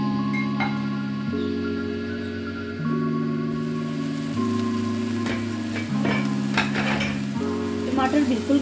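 Tomatoes sizzle and cook down in masala in a pan over medium flame for masala bhindi. A continuous bubbling fry sound runs under a low, steady tonal hum with scattered pops.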